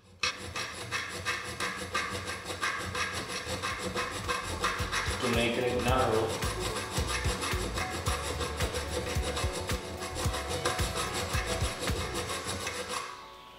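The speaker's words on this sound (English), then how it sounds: "Then we file some of the base of the pulley." Rasping file worked against the base of a small scale-model pulley, a steady run of dense scraping strokes close by and alone, continuous for about thirteen seconds before stopping.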